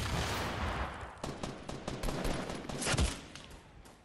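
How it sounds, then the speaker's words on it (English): Fortnite battle royale gunfire, with sustained rattling automatic shots and sharper individual cracks over a few seconds, including a louder burst near the end; no one speaks over it. "Oh, shooting on the hill where we just was"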